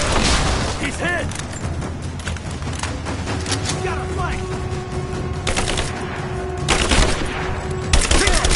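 Rapid bursts of automatic gunfire and loud booms fill a combat scene in the video game Tomb Raider, continuous and close throughout, with shouted voices heard among the shots.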